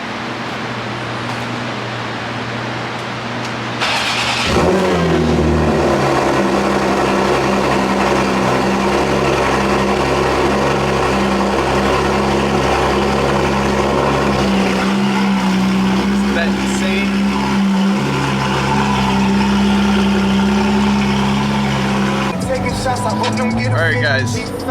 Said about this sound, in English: I'm about to show you how loud this car is. The GT4 RS